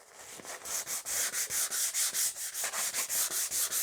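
Lacquered wooden surface being denibbed by hand-sanding between coats: quick, even back-and-forth strokes rasp up close in a steady rhythm, about four strokes a second, with no talking.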